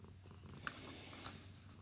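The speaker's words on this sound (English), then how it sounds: "If you hear my cat purring" A cat purrs steadily and softly close by, a low continuous rumble that is faint throughout, with no voices.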